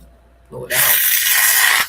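A short voice is followed by a sharp hiss as a can of hair mousse sprays out foam, loud and steady for about a second before cutting off.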